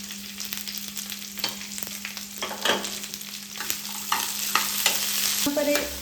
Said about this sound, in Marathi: त्यात टोमॅटो आणि आपले काजू हे व्यवस्थितपणे आपल्याला फ्राय करून घ्यायचे.